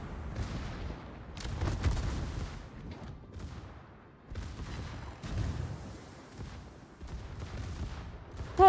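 Repeated bursts of naval secondary gunfire in World of Warships, a dense rumbling fusillade of booms rolling in uneven waves, fairly loud and continuous with brief lulls between volleys.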